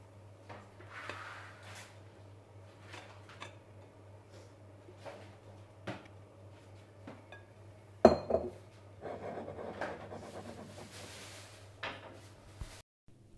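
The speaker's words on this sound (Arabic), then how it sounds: "غنكب في هذا المول ديالي وغندخلها للفران" Basbousa batter being poured into a baking pan that then goes into the oven: faint scattered knocks and scrapes, then a sharp metallic clank and rattling as the oven is handled, with no talking.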